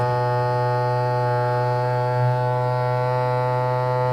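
A vacuum sealer pump for mason jars runs with a steady electric motor hum, a strong low buzz and stacked harmonics, continuously and evenly at close range with no talking.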